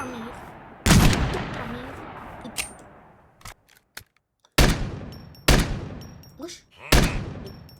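Video game gunfire: several loud, sharp bursts of shots separated by short gaps, with a man exclaiming between them.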